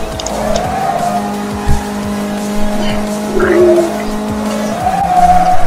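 Racing cars in the GT Racing 2 game drone steadily with engine whine while tires squeal in long sliding bursts, loud and continuous, with some faint background voice.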